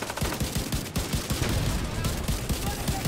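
Rapid, dense gunfire from The Division 2: Warlords of New York, with close bursts of shots cracking in quick succession throughout, steady and loud with no pauses.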